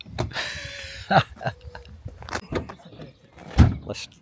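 The door of a 34-year-old Mercedes 190E 2.6 Sportline thuds shut with a solid, low clunk near the end, after scattered clicks and mechanical sounds and a whirring whine early on.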